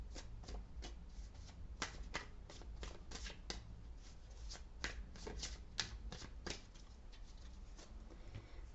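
Tarot cards being shuffled by hand, a long run of soft, close riffling flicks and slaps in an irregular rhythm, quiet and alone with no talking.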